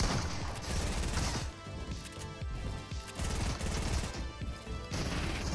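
Pump shotgun gunfire in the video game Fortnite, a loud, dense run of overlapping shots and impacts that continues almost without a break, with no voices over it.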